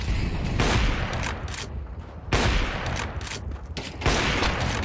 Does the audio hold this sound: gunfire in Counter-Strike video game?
yes